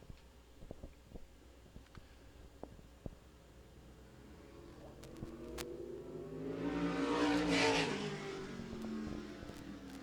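A race car with a spec engine in a Troyer chassis runs on a racetrack, its engine note rising and swelling loud as it passes close at about seven to eight seconds, then holding a steady roar.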